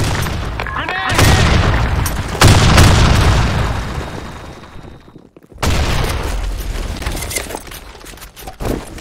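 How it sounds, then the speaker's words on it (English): A grenade detonates in a first-person shooter match on the Office map, loud booming blasts with a sharp crack, preceded by shouted voice callouts and followed by a brief silence before noise resumes. "Fire grenade! In the hole!"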